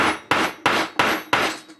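Four evenly spaced, sharp hammer strikes on a metal stamp, each ringing briefly before the next, close and loud with no talking.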